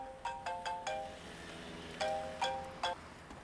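A mobile phone ringtone chimes in a series of bright, repeating tonal notes, quite faint and heard alone, with a short pause midway before the pattern resumes.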